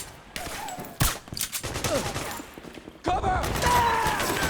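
Rapid bursts of gunfire rattle through a firefight in the video game Metal Gear Solid 4: Guns of the Patriots, close and loud, with a heavy volley near the start and again at the end while soldiers shout between shots.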